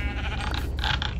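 Sheep bleating in a survival video game, a short wavering bleat heard clearly over a steady low background hum with no talk.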